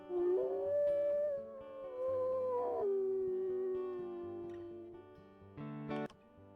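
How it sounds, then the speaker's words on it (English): A wolf howls in the video game WolfQuest, a long sustained howl that slides slowly downward over several seconds, clear and prominent, followed by a shorter, brighter rising yip near the end. "Let's do one more howl just to see."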